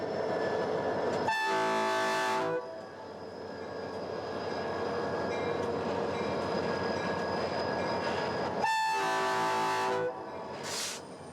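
Helper locomotives run south on Colorado's Joint Line, diesel engines droning steadily as two long horn blasts ring out, followed by a shorter toot near the end.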